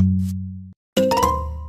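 A doorbell chime in the video game Minecraft, a sustained bright tone that cuts off, then after a brief gap a clinking, ringing chime starts again and fades slowly, with no talk.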